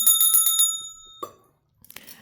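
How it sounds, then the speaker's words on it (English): A small bell rung several times in quick succession with a bright ringing tone, followed by a single softer ding, then a brief faint rustle after a pause; no one speaks. "let's ring the bell"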